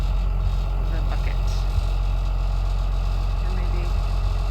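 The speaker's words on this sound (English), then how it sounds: "So I'm gonna grab the tractor and try to push it into the bucket." A tractor engine runs steadily on a farm, a low continuous rumble with a faint vibrating idle that holds at an even level throughout without pauses.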